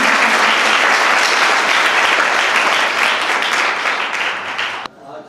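An audience claps warmly at a staged event featuring a short Ayurveda-themed play. Dense, sustained applause fills the room, then fades out near the end.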